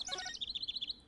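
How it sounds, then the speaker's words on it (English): Birds in the Ace Attorney Dual Destinies video game chirp in a quick, high trill, a brief warbling phrase followed by about ten evenly spaced tweets, moderately quiet with no talking. "Well, except for birds."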